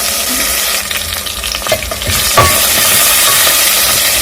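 Onions frying in oil for a brown pilau give a steady, loud sizzling hiss, with a few soft stirring knocks partway through.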